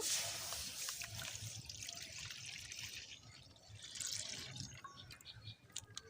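Milk pours from cut packets into a wok (kadai) while making milk chitoi pitha, a soft continuous trickle and drip heard up close in a quiet room, no voices.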